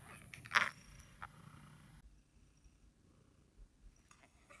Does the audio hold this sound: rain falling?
no